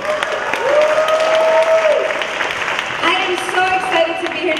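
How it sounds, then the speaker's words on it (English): A crowd at a Pride prom event at the Queens Museum breaks into steady applause, with cheering voices and tonal sounds rising above the clapping. "Let's give a big round of applause to Ms."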